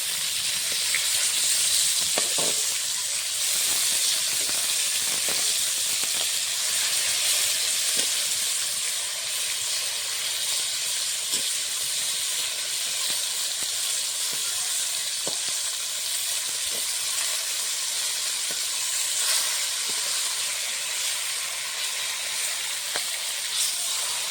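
Several fish frying together in mustard oil in a wok, a dense steady sizzle with scattered pops and stirring clicks, close and constant.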